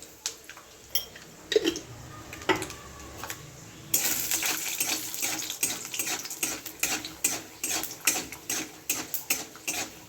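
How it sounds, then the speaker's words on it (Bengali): Peanuts frying in a pan for chira bhaja (flattened rice snack) over low gas, with dense crackling sizzle and sharp ticking pops that grow busier after a few seconds, close and steady with no talk. "বাদাম দিয়ে দিচ্ছি বাদামটাকে ভেজে নেবো"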